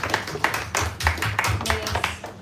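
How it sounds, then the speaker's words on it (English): Applause from a small audience after a Sunday talk on the Bhagavad Gita, a handful of scattered claps in an uneven rhythm that sound close and moderately loud, with a low murmur of voices underneath. "We should all have applause for Gopisha."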